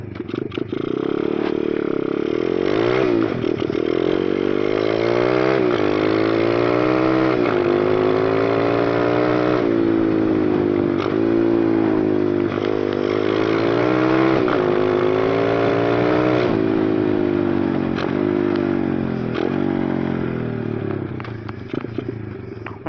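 A small 125 YX dirt bike rides along countryside trails, its single-cylinder engine buzzing close and loud throughout, pitch rising and falling as the rider revs through gears and turns.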